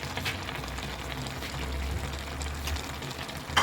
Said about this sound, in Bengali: নামানোর কিছুক্ষণ আগে আমি একটু সরিষার তেল দিয়ে নিচ্ছি